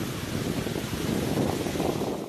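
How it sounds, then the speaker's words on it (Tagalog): Strong waves crash on a beach at Sitio Japila in a continuous, loud, rumbling roar of surf mixed with wind buffeting the microphone. "Malalakas na alon naman ang humampas sa dalampasigan sa Sitio Japila nitong Miyerkules"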